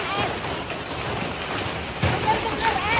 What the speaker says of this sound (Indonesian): Ya ampun, hujan es.